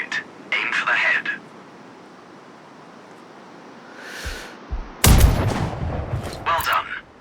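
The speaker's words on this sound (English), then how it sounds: "Now, shoot this target. Aim for the head." Sniper rifle shot in the video game Sniper Ghost Warrior Contracts, a single sharp loud crack about two-thirds through, preceded by spoken instructions and followed by more talk.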